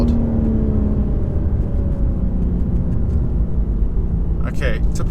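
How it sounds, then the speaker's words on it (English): A 2023 BMW M4 Competition xDrive pulls hard at half throttle, its exhaust a loud, steady engine roar that holds through the whole stretch, with a brief higher whine near the end. "the exhaust actually sounds alright"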